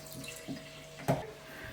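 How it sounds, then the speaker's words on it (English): Kitchen tap water runs into a pot of potatoes in a brief, faint splashing stream with a small gurgle near the end. "we're gonna fill it with water just to the top of the potatoes"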